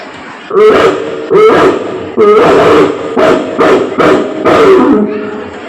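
A young girl imitates a rich household's dog barking, letting out about seven loud, drawn-out bark-like yelps spaced roughly evenly apart.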